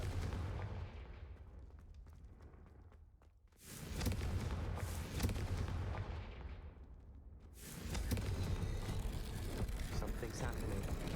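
A Confringo fire blast spell goes off in Hogwarts Legacy, heard as broad, loud explosive bursts around the fourth and eighth seconds, with rumbling game action and a voice in between.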